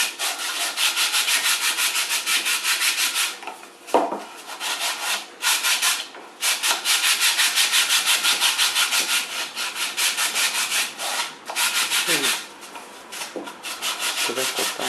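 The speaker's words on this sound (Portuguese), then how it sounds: "Quando a gente passa a primeira camada de tinta, lembra que dá uma arrepiada no MDF. É aí que a gente sente que precisa lixar" Sandpaper scrubs a painted MDF box after the first coat of paint, in close, continuous back-and-forth rubbing strokes. Short pauses break up the strokes, and there is no talk.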